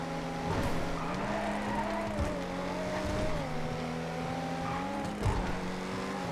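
Tuned racing car in GTA driven hard on a track, its engine droning steadily throughout with rising and falling pitch as it shifts, tires squealing and skidding at several points, loud and continuous with no talk.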